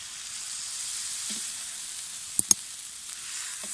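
Lamb liver frying on a saj pan gives a steady, moderately loud sizzle, broken by a couple of sharp crackles partway through, with no talking.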